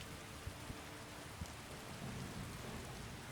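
Steady rain falls in the Skyrim video game world, a continuous dense hiss with a few soft low thumps, like faint distant rumbles, and no voices over it.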